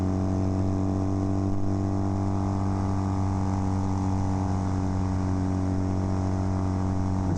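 A Kawasaki KZ400 tracker motorcycle on knobby tires roars loud and close at steady speed in fifth gear, a continuous rough engine drone lasting the whole time.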